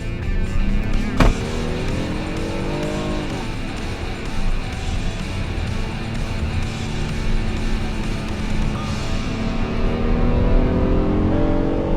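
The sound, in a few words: 2018 Honda Odyssey Touring minivan driving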